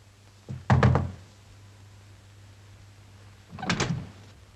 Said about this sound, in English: I heard your knock.